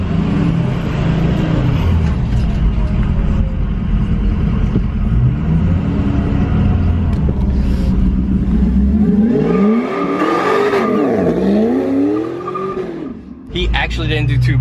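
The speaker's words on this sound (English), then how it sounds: "We're gonna get them to rip a little bit of a burnout for us once we pull out of here." A truck making around 580 torque to the wheel does a burnout as it pulls out, its engine roaring loudly and steadily with revving swells and tire squeal, voices talking over it.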